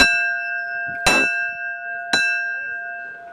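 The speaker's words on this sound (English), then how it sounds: "Stop ringing the bell." A bell in the tower of the Key West Shipwreck Museum rings out with bright, ringing strikes about a second apart, each one leaving a long, humming decay that fills the quiet between them.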